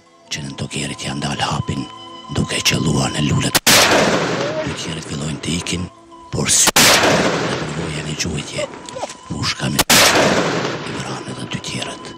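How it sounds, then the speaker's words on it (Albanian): Sharp, loud gunshots crack out at intervals, three distinct reports, each followed by a long booming echo, with a voice speaking between them. "të katërten ishte krisma për Miftar Hasanit"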